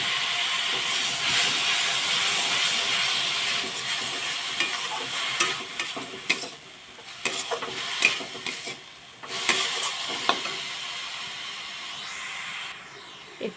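A spoon stirs coconut and jaggery with a little water in a hot pan, giving a steady bubbling sizzle and hiss with irregular scraping strokes close by.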